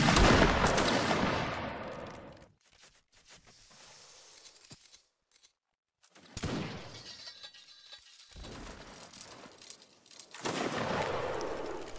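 Musket volley fire in the Napoleonic battle game Mount and Blade: three loud, ragged bursts of many shots cracking at once, each trailing off into echo, separated by quieter gaps with faint footsteps.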